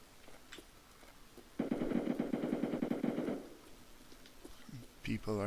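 Distant automatic gunfire from fighting in the Escape from Tarkov video game rattles in a rapid burst of about two seconds, faint and far off, with quiet ambience before and after and a brief voice at the end.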